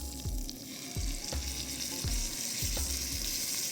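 A chunky Tesco steak frying in a pan, with a dense, steady sizzle close up and a few soft low thumps from the pan at regular intervals.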